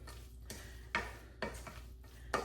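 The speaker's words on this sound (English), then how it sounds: "we're just gonna give it a good stir" A spoon stirs sautéed corn in a pan, scraping in a few distinct strokes with light clinks against the metal over a low background hum.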